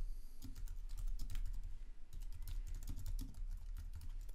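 Keys clatter in a quick, uneven stream of light clicks as someone types text on a computer keyboard at close range, with brief pauses between bursts and no talking.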